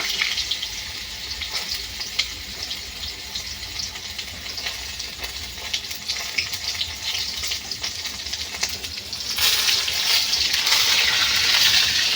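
Ash gourd leaf fritters frying in hot mustard oil give a loud, continuous sizzle with crackling spatters, swelling brighter and fiercer near the end as more battered pieces go into the pan, with no voices.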